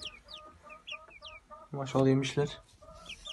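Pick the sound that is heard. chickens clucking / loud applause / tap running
chickens clucking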